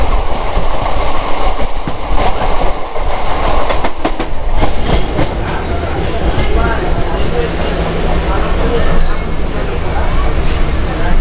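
A Howrah to Tarakeswar local train runs along the rails, its loud continuous rumble and clickety-clack carrying throughout with a faint murmur of voices inside the nearly empty carriage.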